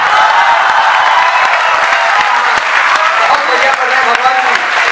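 Steady, dense applause from a crowd at a youth poetry gathering at MNIT Bhopal, loud and continuous throughout with scattered cheers and voices mixed in.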